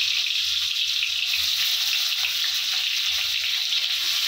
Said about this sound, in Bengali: আর মাছগুলো এখন আমি ফ্রাই করে নেব।